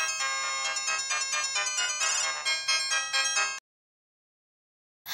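A mobile phone ringtone for an incoming call plays as a loud bright chiming melody for about three and a half seconds, then cuts off abruptly into silence.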